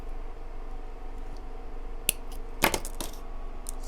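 A single sharp snip as a waist bead string is cut, followed by a few faint clicks of beads and handling against a quiet background.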